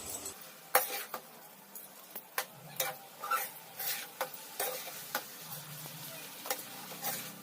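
A spoon scrapes and clinks in a pan, stirring garlic pepper rice with curry leaves in a steady series of knocks over a quiet sizzle.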